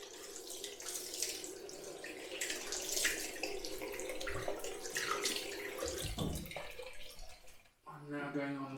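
Tap water runs steadily into a sink as a face is rinsed after a wet shave with a Muhle R41 safety razor, a moderate close wash with splashing changes; a voice speaks briefly near the end.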